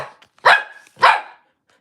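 A dog gives two loud, close barks about half a second apart, sharp and alone in an otherwise quiet room.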